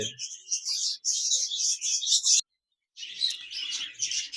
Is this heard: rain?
no